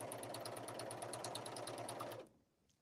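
Serger sewing a flatlock seam with the knife blade deactivated and zero needle tension, a fast, even mechanical whir with rapid regular stitching pulses that runs steadily, then stops abruptly near the end.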